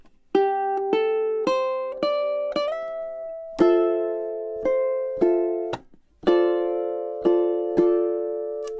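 A ukulele plays measures 22 and 23 of a piece in a repeated two-bar phrase of crisp chord strums, some quick pairs and some held, close and clear with no voices.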